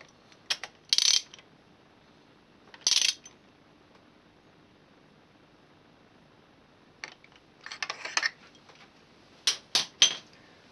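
Torque wrench set to 27 Newton meters tightening a spark plug on a Mini, a few short metallic ratcheting clicks in separate bursts, close and fairly quiet.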